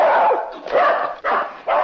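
A dog in a 1952 film noir barks loudly and repeatedly at close range, a run of rough overlapping barks with brief dips between bursts and no speech over it.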